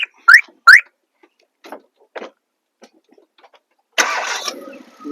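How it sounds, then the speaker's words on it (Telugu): A 2012 Hyundai i10 Sportz car engine starts on the self-starter: a couple of short chirps and faint clicks, then the engine catches on the first try and settles into a close, steady idle. "ఇంజిన్ వరకు సింగిల్ స్టార్ట్లో వెళ్ళిపోయింది."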